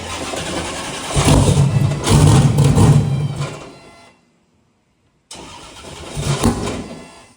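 Turbocharged 427 Corvette engine firing up and revving hard, loud roaring bursts, a sudden cutoff to silence, then the engine roars again.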